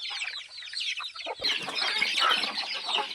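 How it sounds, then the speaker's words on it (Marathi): Country chicken chicks peck at poultry feed, producing a dense, close chorus of high, rapid peeping chirps that runs without a break. "बघू शकता कशा पद्धतीने पूर्ण पिल्ले जे आहे आपली फीड खात आहेत."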